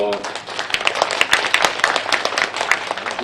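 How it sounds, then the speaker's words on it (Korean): An audience at a Global Cyber University startup concert applauds, with a brisk patter of clapping running under a speaking voice. "박수로 맞아주십시오."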